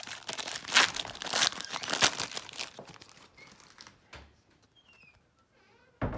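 Foil wrapper of a Prizm trading card blaster pack crinkles and tears in several loud, close bursts, then the rustling fades to faint handling of the five cards.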